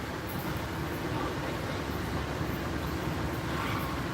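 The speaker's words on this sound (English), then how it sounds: "here is the Amtrak train, and I am on it right now," Inside an Amtrak train's dining car, a steady broadband rumble of the moving train fills the whole clip, with constant rolling noise and no clear voices.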